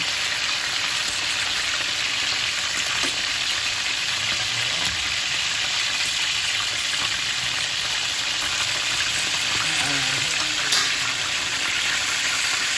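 Fish sizzles steadily in hot cooking oil in a pan, a constant dense crackle and hiss with small pops throughout and no talking.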